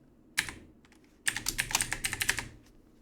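Fingers type a file name on a computer keyboard, a single tap followed by a quick burst of about a dozen soft, close key clicks, then stillness.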